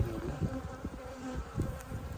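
Close, steady buzzing of many honeybees, a dense droning hum with wingbeat flutters rising and falling, no voices.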